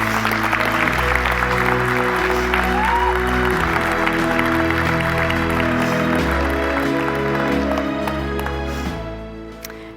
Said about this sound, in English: Mr. Scott Berger, and Mr. John Lim, please join me in giving them a round of applause.